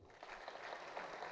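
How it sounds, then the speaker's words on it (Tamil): Audience at an event stage clapping in a brief, faint but dense burst of many hands, steady and continuous with no talk over it. "கைத்தட்டுங்க"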